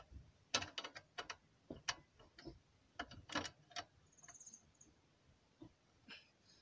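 A hand wrench unscrews a bolt on the suspension arm of a small car such as a Nissan Micra or Suzuki Alto, giving a series of quick ratcheting clicks and metallic turns in irregular bursts, with pauses between.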